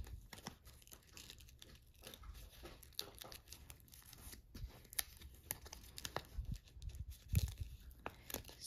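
Vinyl stencil background being peeled from its backing sheet for a pottery planter design, heard up close as soft, irregular crinkling and tearing rustles, quiet and continuous with no talk.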